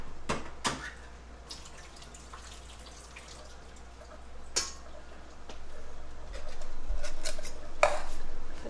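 A can of black olives being drained in a home kitchen, with close metallic clinks and taps of the can over a soft trickle of liquid and a faint low hum.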